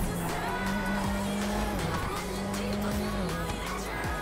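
A GTA 5 race car roars continuously at high revs with tires squealing and skidding through corners, loud and sustained throughout, with faint voices underneath.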